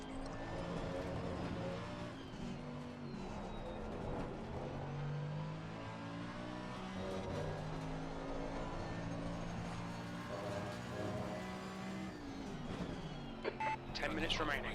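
A race car in Assetto Corsa Competizione exits the pits, its engine whining and revving in repeated gear-by-gear rises throughout, heard under ongoing radio-style talk.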